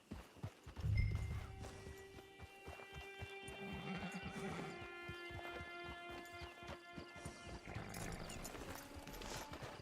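A horse in the open-world Western game Red Dead Redemption 2 whinnies loudly near the start, then its hooves clip-clop in a steady walking rhythm under a bed of sustained musical tones.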